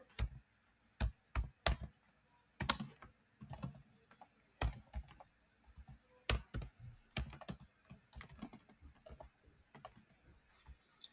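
Code being typed on a computer keyboard, irregular bursts of close crisp key clicks separated by short pauses, quiet and alone without talk.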